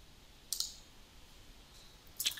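Two faint, sharp computer mouse clicks sound about two seconds apart against a quiet background.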